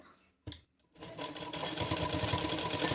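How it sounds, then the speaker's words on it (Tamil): A sewing machine stitches blouse cloth: after a short bump and a brief pause, a continuous close mechanical whirr with a fast needle rhythm sets in and holds steady. "நல்ல பக்கத்துக்கு மேலே நம்ம கீழேருந்து அடிச்சுட்டு வரணும் தைச்சிட்டு வரணும்"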